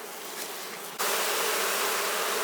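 Confused honey bees buzz around a fume board lifted off a beehive super, a steady insect drone that turns suddenly louder and brighter about a second in, then holds constant.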